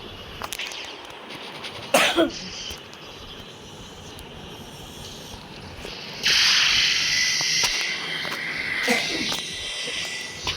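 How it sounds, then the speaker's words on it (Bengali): Two sharp coughs from a person with a cold break through a steady background hum, one early and one near the end, while a loud hissing noise fills the later part. "আর গাইস কাশি হইতেছে, ওইটা একটু ইগনোর করো,"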